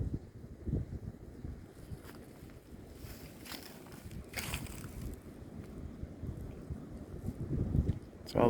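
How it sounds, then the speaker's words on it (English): Wind gusts across open hills with trees, a steady low, rumbling buffet that swells and eases for several seconds, with a faint voice at moments. "Can you hear that wind?"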